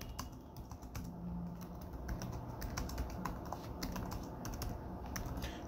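Keys clack steadily on a computer keyboard while business details are entered, quick irregular taps that carry on without pause over a low room hum.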